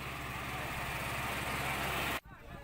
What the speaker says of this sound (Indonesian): warga lansia dan anak-anak diangkut menggunakan traktor.